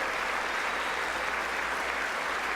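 Applause fills the chamber at the 2019 State of the Union, a thick, even roar of many hands heard from a distance without letup.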